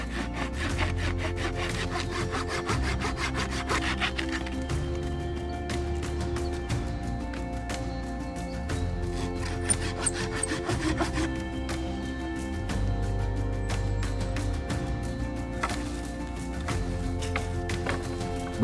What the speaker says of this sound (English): it's time to take a saw and look for branches